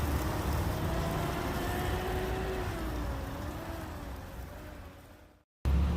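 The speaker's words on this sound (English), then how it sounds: "a lot of traffic noise." Steady traffic rumbles and washes outside a mall at dusk, a continuous mid-distance roar with passing vehicle tones, ending in a brief dropout.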